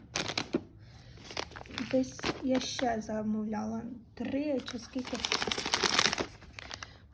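A plastic roasting bag crinkles and rustles as it is handled, sharp crackly bursts near the start and end, mostly under someone talking nearby.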